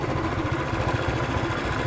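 A motorbike engine idles steadily just after being restarted, a low continuous rumble with a slight rhythmic chug, close and unbroken for the whole stretch with no talking.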